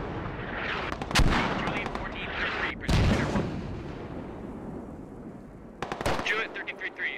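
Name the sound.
mortar fire in the video game Squad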